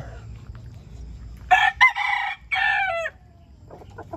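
A rooster crows loudly nearby in two long bursts, with soft clucking from hens before and after against a quiet backyard background.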